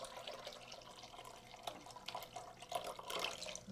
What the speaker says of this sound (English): take a look at how many eggs you have, and then add about the same amount of milk.